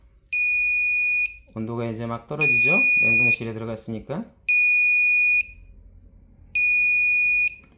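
A cold storage temperature alarm buzzer sounds in four loud, piercing, sustained high beeps about a second long, separated by pauses, with someone talking between the first blasts.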